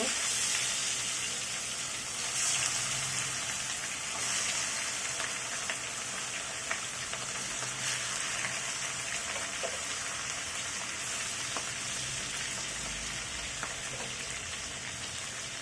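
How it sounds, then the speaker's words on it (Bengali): Rohu fish pieces fry in hot oil, a soft, steady sizzle like light rain that carries on evenly with occasional faint pops and ticks, moderately close, with no one speaking. "একইভাবে অন্যগুলো মাছও ফ্রাই করে নেব"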